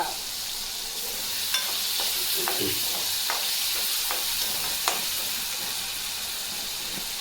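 Crushed garlic and coriander crackle in a hot pan as a tempering, a steady close sizzle punctuated by a few sharp pops and spatters.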